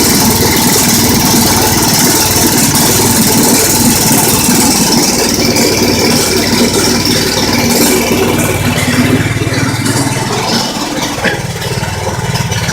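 A small engine on a homemade 12 volt generator idles steadily and close by, a continuous even drone with a slight rattle and no voices.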